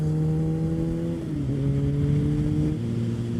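A motorcycle engine pulls hard on a twisty road, a steady loud drone whose pitch rises, dips with a gear change and climbs again, with no voices.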